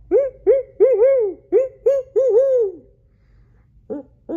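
An owl hoots in a repeated series of clear, close calls for a wooded nighttime setting, about nine hoots in an irregular rhythm, the last two short ones after a pause.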